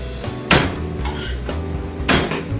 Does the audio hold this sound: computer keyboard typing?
no